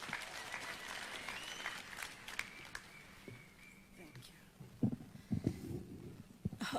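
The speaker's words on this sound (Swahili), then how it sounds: "Simumpigie makofi." Crowd applause at a public speech event in Makueni County, Kenya, a steady bed of clapping from a large gathering with some voices mixed in and a few louder claps near the end.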